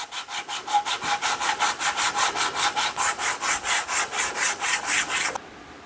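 Hand saw cutting the kerf in the handle of a double bit cruiser saddlebag axe: about twenty brisk, even back-and-forth strokes rasping through wood, close and loud, stopping abruptly near the end.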